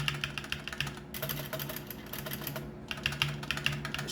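Typing on a MUCAI MKA610B 60% mechanical keyboard, with quick runs of crisp clicky keystrokes broken by short pauses, close and moderately quiet with no talk.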